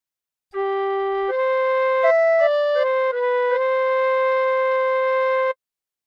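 A tin whistle plays a short melody of clear, sustained notes that step up and down, then holds a long final tone, from the hymn What a Friend We Have in Jesus.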